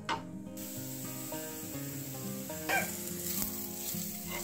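Chopped onion sizzles in hot oil over a high flame, a soft, steady hiss of frying under background music.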